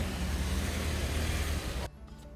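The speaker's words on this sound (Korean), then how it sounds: "아니 시동이 걸렸었어" A flood-damaged Kia Sorento engine runs with a loud, rough, close roar for about two seconds, then cuts off abruptly into near quiet, with no voices.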